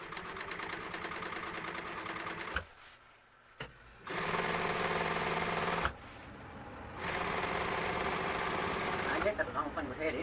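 An electric sewing machine stitches truck seat fabric while restoring a 1951 Ford truck seat, running in long buzzing bursts separated by short pauses for a brief back tack, close and clear with occasional faint talk.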